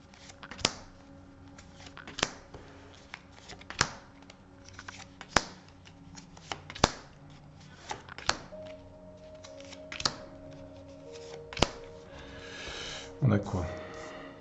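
Tarot cards shuffled and laid out one by one, crisp snapping flicks recurring every second or so over a soft room hum, with a brief rustling flurry near the end.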